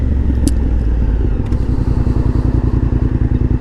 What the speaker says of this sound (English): Oh, a dirt bike.